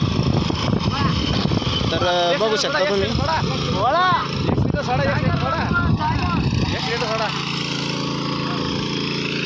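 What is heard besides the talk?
power weeder tiller engine running in cotton field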